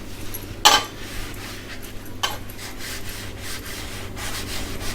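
Sponge scrubbing on a kitchen surface such as a countertop, stove or tiles, heard as soft repeated rubbing strokes close by, broken by a sharp scraping swipe near the start and another in the middle, with no talk.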